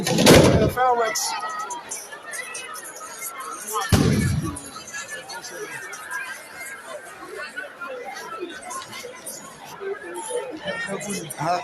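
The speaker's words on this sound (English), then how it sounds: "Fireworks." Fireworks bursting at an Asante Juaben celebration, with two loud explosive bangs near the start and around four seconds, then crowd chatter and voices filling the rest.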